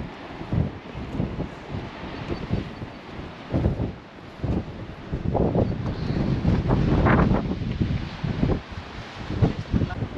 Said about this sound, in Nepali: यहाँनिर चाहिँ धेरै हावा लागेको कारणले चाहिँ हामी धेरै अड्न सकेनौँ